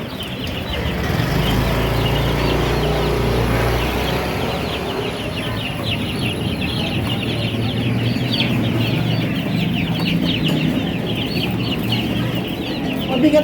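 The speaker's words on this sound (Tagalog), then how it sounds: "Ayan, mga manok." A large crowd of plump chickens being bought clucks and chatters nonstop, loud and close, a dense continuous flock noise with no pauses.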